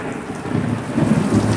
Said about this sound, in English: Yeah, I wasn't kidding when I said it was raining.